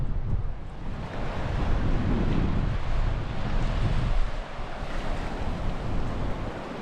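Waves wash onto Browns Beach on the Yorke Peninsula in Innes National Park, South Australia, with heavy wind buffeting the microphone and a swell of surf rising and falling midway.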